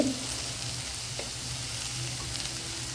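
Tomato, bitter gourd, potato and turmeric sautéing in a pan for sambar give a steady, soft frying sizzle throughout, fairly quiet and close, with an occasional light stir and no talking.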